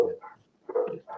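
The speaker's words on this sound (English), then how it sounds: "You got the dog going here now" A dog barks in a few short bursts during a relaxed indoor conversation, the barks close and moderately loud with brief gaps between them.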